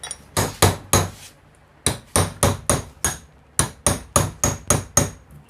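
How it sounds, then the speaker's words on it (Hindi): Hammer blows on a steel chisel cutting open an electric motor casing to prepare it for rewinding, ringing metallic strikes in three bursts of three to six quick, evenly spaced hits, close and loud with no talk. "तो इसको काटने के लिए चलिए छेनी का लेते हैं इस्तेमाल।"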